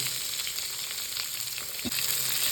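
Shallots, mustard seeds, chana dal and urad dal fry in two spoons of oil for goat blood poriyal, giving a steady close hiss and sizzle with a brief stir partway through.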